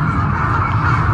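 A dense, continuous chorus of harsh bird calls, many crows cawing over each other in Japan, loud and close with no pauses.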